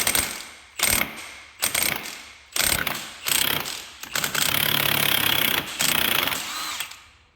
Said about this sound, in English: Homemade clutch holder tool.